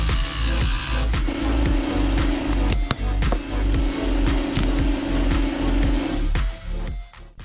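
A bearing puller working a bearing off a front differential, with repeated close metallic ratcheting clicks and scraping under a loud, steady grinding drone in a workshop.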